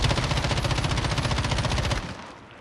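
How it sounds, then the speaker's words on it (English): A full magazine from the M13 rifle in Call of Duty Warzone fires as one rapid, evenly spaced automatic burst lasting about two seconds, loud and close, then cuts off into a brief fading tail. "just do a full mag of the M13 with no stick input at all"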